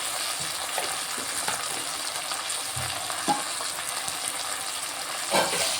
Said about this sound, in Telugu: ఆనియన్ లైట్గా ఫ్రై అయ్యాయండి.